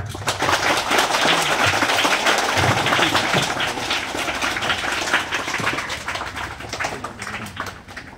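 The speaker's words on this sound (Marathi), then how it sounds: "त्यांचे जोरदार टाळ्या वाजवून हार्दिक अभिनंदन करू." Loud, sustained clapping from a crowd honouring people who passed the UPSC Class 1 officer exam, dense and steady before easing slightly toward the end, with no talk.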